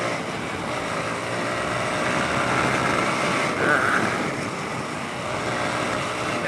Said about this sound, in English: It's a lovely little engine.